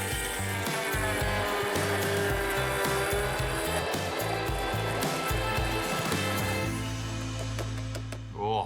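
Kitchen blender whirring loudly and continuously while blending a jalapeno lime sauce for flank steak tostadas, a steady motor roar close up that dips slightly near the end.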